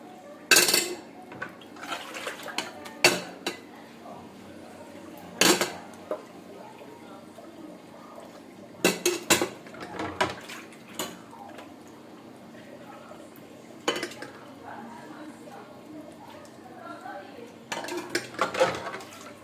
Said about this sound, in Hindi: अब मैं नाश्ते वाले बर्तन धो रही हूँ।